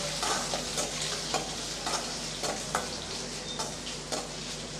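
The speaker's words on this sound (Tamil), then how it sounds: "இப்போ இதை நல்லா வதக்கி விட்டுறலாம்" Finely chopped onion for sambar sautés in a pan with a continuous close sizzle, punctuated by regular scraping strokes of a spatula.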